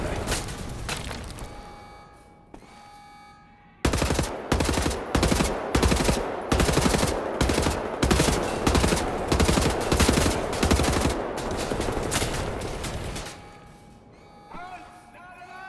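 Gunfire rattles in the video game Wolfenstein: a few scattered shots, then a loud sustained burst of rapid automatic fire lasting several seconds before it tapers off, with a player talking underneath.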